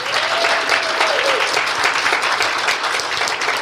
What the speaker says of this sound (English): And how about another round of applause for David?